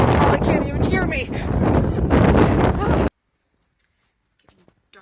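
Cold, strong wind buffets a microphone outdoors, a loud roaring rumble over a person talking for about three seconds before it cuts off abruptly to near silence.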